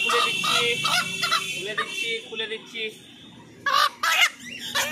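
A native hen kept among pet birds gives short bursts of clucks and squawks close by, broken up by pauses, while a person speaks briefly.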